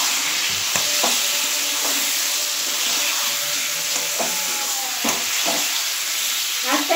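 Chicken stomach frying in a pan with water just added: a steady broad sizzle and hiss with a few spoon scrapes and knocks against the pan, close and continuous, no talking.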